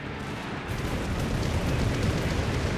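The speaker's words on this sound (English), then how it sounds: "Alright, here comes bombers." Bomber airstrike in the war game Company of Heroes 3 on a winter map, a loud sustained roar of rumbling explosions that swells and holds as one dense continuous barrage, without speech.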